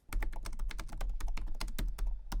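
Rapid typing on the plastic keyboard of a cheap OLED laptop with a numpad: a dense, steady run of close, crisp keystrokes, loud and uninterrupted, with no voices.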